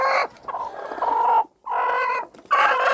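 Several chickens clucking and squawking close by in uneven bursts, with short pauses between the calls.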